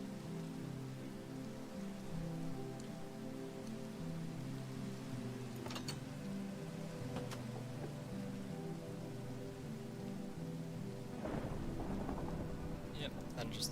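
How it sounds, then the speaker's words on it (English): Steady rain patters on surfaces in a Minecraft hardcore world as a storm builds, with two faint distant thunder cracks midway and a louder rumbling roll near the end, under a low continuous hum. "the rainstorm is turning into a thunderstorm"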